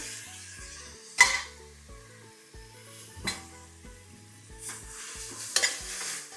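Mint and coriander being stirred into ginger garlic paste frying in a pan, with a steady sizzle and a few sharp spoon scrapes and clinks against the pan in between.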